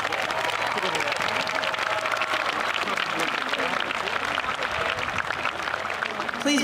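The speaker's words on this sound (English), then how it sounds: "Please give them a round of applause." A graduation audience applauds graduates in a large hall: sustained, dense clapping from many hands for several seconds, steady and loud, easing slightly at the very end.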